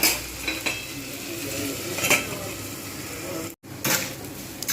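Potatoes with salt frying in a pan, a steady close sizzle with scraping stirs and utensil clinks against the pan, broken by a brief silent gap.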